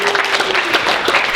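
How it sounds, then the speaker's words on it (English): A room of board game convention panel attendees claps for the camera and lighting operator, a short burst of mid-level applause with some scattered individual claps standing out. "round of applause for Corey"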